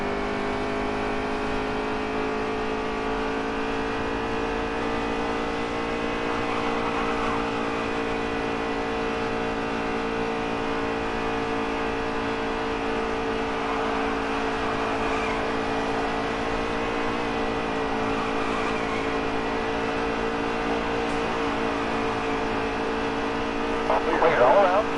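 Race cars in NASCAR Heat 3 drone steadily together through the whole stretch, a dense layered engine roar with a brief louder surge at the very end, while a voice talks over it.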